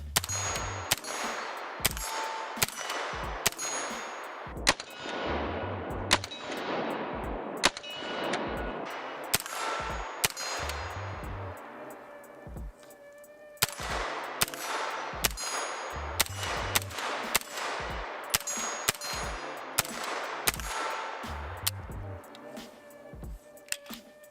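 Small gun test fired in a long string of sharp, loud shots with ringing metallic clangs, spaced at irregular intervals with short bursts and pauses, no talking.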